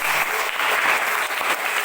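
A classroom of students claps in a loud, steady burst of applause filling the whole two seconds, close and unbroken.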